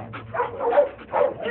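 A female dog whimpers and makes soft yips in a few short, close, moderately loud vocal bursts with brief pauses between them.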